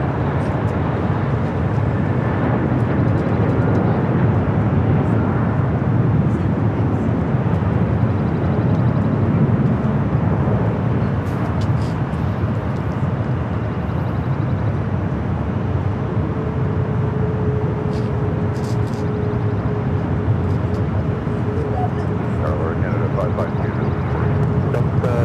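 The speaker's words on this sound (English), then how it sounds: "This arrival is Southwest Airlines 3785 coming in from St." A Southwest Airlines Boeing 737 MAX 8 arriving at LAX, heard as a steady broad jet roar that holds throughout at moderate distance, with people talking over it.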